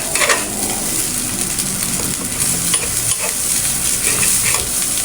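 Sinangag, Filipino garlic fried rice (kalo-kalo), being stirred and fried in a pan, with a steady sizzle and scraping throughout and no talking.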